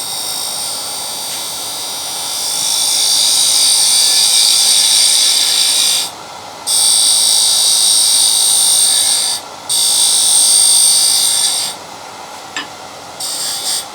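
Wood lathe turning a box, a steady high whirring and cutting hiss that runs loud and continuous, broken by brief pauses around six, nine and twelve seconds before resuming.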